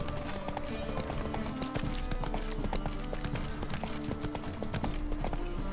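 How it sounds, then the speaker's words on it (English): Hooves of Geralt's horse Roach clip-clop steadily in The Witcher 3 video game, a close, continuous rhythmic clatter over a dense background of game music and ambience, with no talk. "Whoa there, Roach."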